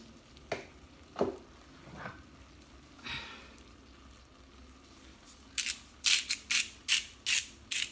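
Lemon cream pasta primavera sauce being stirred in a pan, with scattered soft scrapes early, then a quick run of sharp, rhythmic clacks and squelches near the end, close and fairly loud, with no talking.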